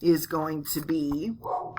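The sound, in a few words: dog barking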